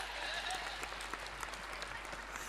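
A crowd at a Hindi comic poetry gathering, a hasya kavi sammelan, claps for poet Surendra Dubey. The applause is fairly faint and sounds distant, steady across the moment, with a constant low electrical hum beneath it.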